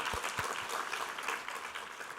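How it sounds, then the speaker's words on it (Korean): Church congregation applauding together, a dense continuous wash of clapping held at an even level throughout. "우리 하나님께 감사와 영광의 박수 올려드리겠습니다."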